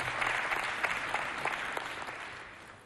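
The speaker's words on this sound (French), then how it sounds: "je voudrais que vous saluiez en applaudissant" An audience applauds at a book presentation and signing ceremony, a crowd clapping steadily at moderate volume and tapering off toward the end.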